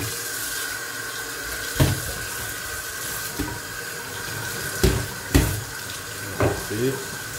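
Hot tap water runs steadily into a sink while food is rinsed under it, with a few louder splashes and clunks against the basin and some background voice.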